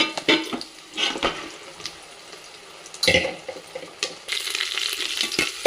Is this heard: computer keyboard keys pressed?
no